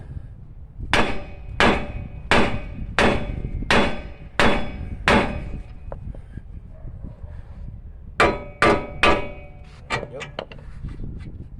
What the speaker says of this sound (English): I'll leave it there to give it a good whack